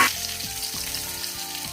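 Vegetables frying with garlic and green chili in a pan give a steady, close sizzle with a few soft stirring knocks, and nobody speaks.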